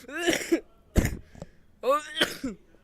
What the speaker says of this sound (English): I'm coughing out of laughter